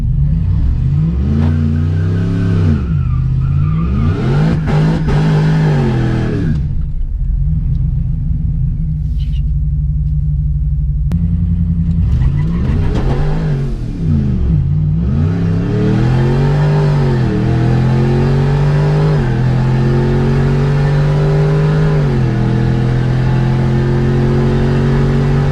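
Supercharged RAM 1500 truck on a quarter-mile drag run, its engine loud and close as it revs up through repeated gear changes with a brief lift around the middle, no voices.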